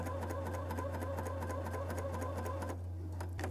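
A Bernina L 620 coverstitch machine sews fabric in a rapid, even mechanical chatter over a constant motor hum, close and continuous for the whole stretch.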